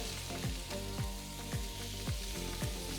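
Lamb cutlets sizzle on a barbecue tray in a Smeg Galileo oven, a steady, close crackling fry with faint regular ticking pulses underneath and no voices.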